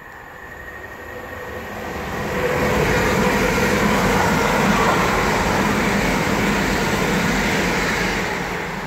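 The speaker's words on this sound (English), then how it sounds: "some sort of other train coming behind me" Train passing through Hitchin station on the East Coast Main Line, a rumble that swells from a quiet start into a loud, sustained roar of rolling wheels and rushing air, staying heavy to the end.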